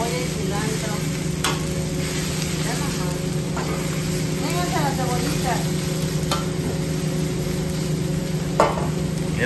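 Onions and tripe sizzle on a hot griddle at a taco stand, a steady frying hiss with occasional stirring scrapes, running under people talking nearby.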